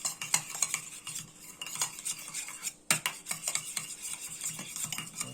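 A utensil stirs a mixture with balsamic vinegar in a bowl, giving close, irregular scraping and clinking taps against the dish and a soft wet swirl, with one sharper knock midway and no talking.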